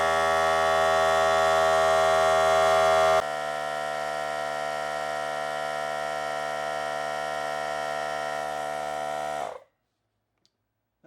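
A loud, steady mechanical drone with a strong hum from a small Campbell Hausfeld 2-gallon air compressor filling its tank runs continuously, drops in pitch partway through, then cuts off abruptly into silence.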